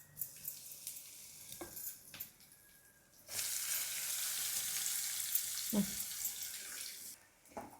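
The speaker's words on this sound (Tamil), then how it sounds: "பாருங்கள் வெங்காயத்தை நம்ம வதக்கிட்டோம்" A loud, steady sizzle of onions frying in a pan, with a few soft clinks and stirring noises before and during it.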